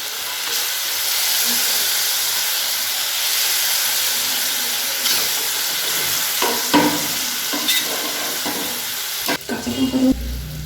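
Hilsa fish pieces frying in hot mustard oil in a pan after the tempering, a steady loud sizzle and hiss throughout with a few sharper crackles and stirring clatters near the end.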